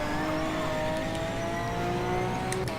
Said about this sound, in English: So let's go ahead and upshift now.